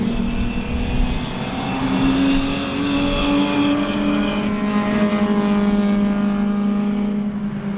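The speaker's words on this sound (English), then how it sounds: "Big pack of cars coming through here." Several race cars in a close pack roar past at the Sebring two-hour enduro, a loud, sustained engine drone with rising and falling pitch as they pass, continuous throughout with no talking.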